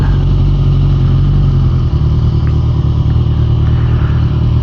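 Motorcycles at a bike night rumble loudly and continuously in a low, throbbing idle, dense engine noise with slight fluctuations as bikes rev faintly, close and constant throughout.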